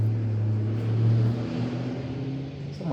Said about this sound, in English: someone has a very loud car.